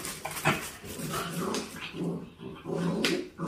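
A dog, a Welsh Corgi or Dachshund, whimpers and whines in short, repeated bursts, close by, with no talking.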